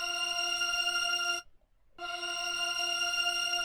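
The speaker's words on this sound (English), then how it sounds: "It's actually a choir, and here it is right here without any like sound effects on it." Sustained choir sample held as a steady chord with no effects applied, cutting out briefly in the middle before resuming, clear and moderately quiet with no talk.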